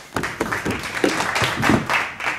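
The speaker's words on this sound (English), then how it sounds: "Give him a round of applause" A school audience claps for a student called up during a class presidential campaign event: a burst of brisk, uneven hand claps from a modest crowd, close and fairly loud, lasting a couple of seconds.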